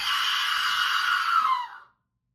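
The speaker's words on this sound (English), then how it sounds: "It's called an Aztec death whistle." A clay Aztec death whistle sounds one sustained shrieking, scream-like blast lasting nearly two seconds, loud and close, then it tapers off and cuts to silence.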